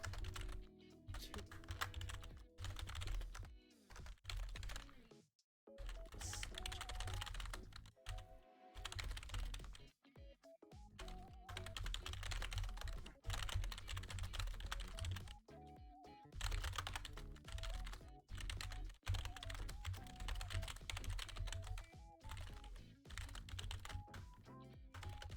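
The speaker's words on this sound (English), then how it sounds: "I'm just typing things out." Someone types on a computer keyboard in rapid, irregular bursts of clicky keystrokes, close and clear. The typing pauses briefly a few times over a low background hum.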